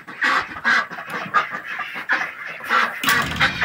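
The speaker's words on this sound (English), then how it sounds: "And there's my ducks." Ancona and Pekin ducks in a pen quack and chatter in repeated bursts, close and lively, with one sharper louder call near the end.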